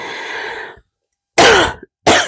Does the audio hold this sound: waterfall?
no